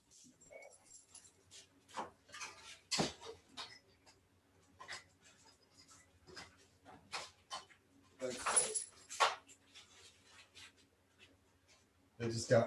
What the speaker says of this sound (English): My dog just came running through and knocked my lights over.